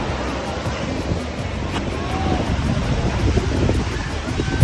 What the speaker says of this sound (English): The famous Sand Beach.